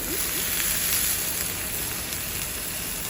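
Loitta fish frying in a pan with ginger garlic paste, a steady dense sizzle that holds at an even level throughout, close by with no voices.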